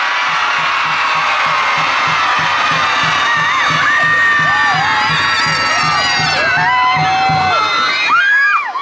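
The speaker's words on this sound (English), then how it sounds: "So after 3, we'll all cheer." Crowd of children cheering loudly together at an Empire and Flag Day parade, a sustained burst of high shouts and whoops, with rhythmic low thumps running beneath.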